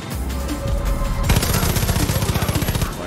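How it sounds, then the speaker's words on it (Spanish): Gunfire in the video game Far Cry: New Dawn, a burst of rapid automatic shots firing in a quick regular rhythm after a brief lead-in, close and fairly loud. "Oigo disparos."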